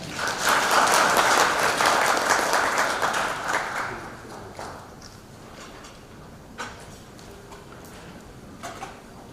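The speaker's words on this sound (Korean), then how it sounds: "큰 박수로 모시겠습니다." Audience applause at a Korean new-technology (NET) certification forum, loud and dense for about four seconds, then fading to scattered claps and quiet room noise.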